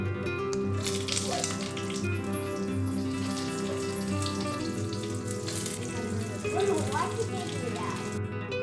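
A tablespoon of pure desi ghee heats in a pot, giving a steady, continuous sizzle with a faint watery hiss. Speech runs faintly in the background throughout.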